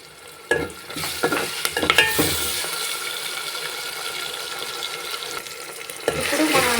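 Potato curry with ginger-garlic paste being stirred in a pan, a spoon scraping and clattering against the metal with a few sharp knocks over a steady sizzle and background hiss.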